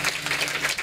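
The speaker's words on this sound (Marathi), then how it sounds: "त्यांच्यासाठी एकदा जोरदार टाळी वाजवा" Audience applause for a pakhawaj drum player at a devotional kirtan on Gokulashtami, a short burst of steady clapping from a crowd.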